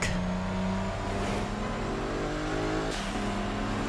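A truck's six-speed engine revs in the racing video game Midnight Club 3: DUB Edition Remix, a steady loud drone with shifting pitch and a couple of brief gear-change dips.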